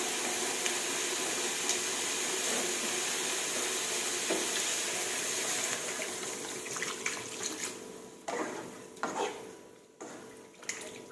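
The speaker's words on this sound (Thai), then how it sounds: "พอใกล้เริ่มสุกค่ะ เติมน้ำลงไปเลยจ้ะ" A steady stream of water pours into a pot of chicken curry for several seconds, then tapers into splashes and clinks of a utensil against the pot.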